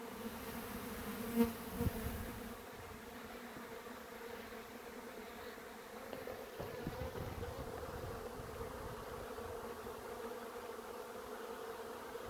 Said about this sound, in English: Man, that's a lot of bees up there.